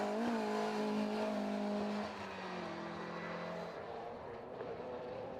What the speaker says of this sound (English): the understeering Mini of Stuart Bowes comes through in second place.